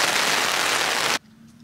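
Heavy rain falls on a golf course during a European Tour event as a loud, dense, steady hiss that cuts off abruptly after about a second, leaving quiet.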